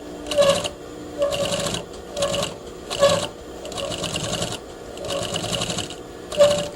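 A sewing machine stitches a quarter-inch seam on a basted garment pocket in bursts of steady whirring, several runs separated by brief pauses, close and fairly loud.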